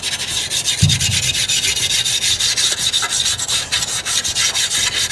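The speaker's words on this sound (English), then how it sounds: "Now I'm gonna use just a brass brush on this and see if I can get off any of this rust." Rapid back-and-forth scrubbing of a brass brush against a rusty metal part from a 1970 Honda SL350, a close, steady gritty rasping with a brief low knock near the start.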